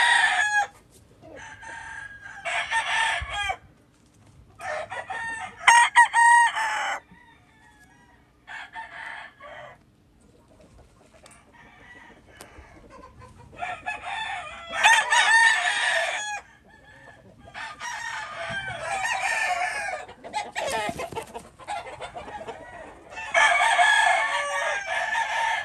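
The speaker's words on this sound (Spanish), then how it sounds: "¿Qué piensan, parientes, de los gallos que les estamos mostrando aquí ahora en este video?" Several crossbred fighting roosters crow loudly in repeated bursts, with quieter clucking in the pauses between crows, all close by.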